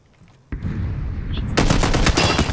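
An AK rifle in PLAYERUNKNOWN'S BATTLEGROUNDS opens up in rapid automatic gunfire after a brief quiet moment, the close, harsh bursts growing louder and more continuous partway through.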